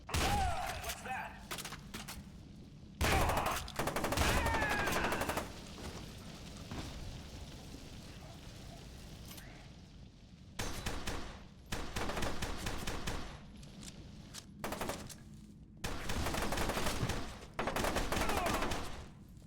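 SMG gunfire in the shooter game FEAR 2, heard as several loud bursts of rapid shots separated by quieter stretches of ambient game noise, with a voice talking at times.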